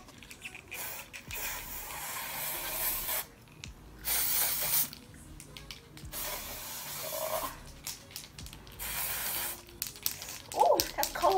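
Several short hissing bursts from an aerosol hairspray can sprayed on the body, close by, separated by pauses, with faint rustling in between.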